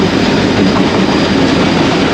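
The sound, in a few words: local train arriving at Landhi Junction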